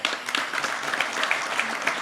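A crowd at a talk concert for Vietnam War veterans and their families claps warmly, a dense continuous patter of many hands, steady and fairly loud throughout.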